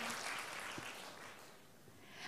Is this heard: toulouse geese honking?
no